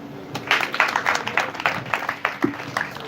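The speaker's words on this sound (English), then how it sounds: "A round of applause for the 3 schools that have presented" School audience at a government deworming flag-off event gives a round of applause, irregular bursts of clapping from many hands at moderate distance, rising and falling over the few seconds.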